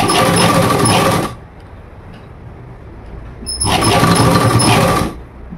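A sewing machine stitches a katori blouse piece in two loud runs of about a second each, separated by a quiet pause of roughly two seconds, close and alone without talk.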